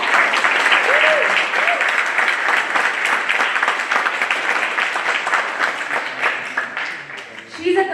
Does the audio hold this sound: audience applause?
yes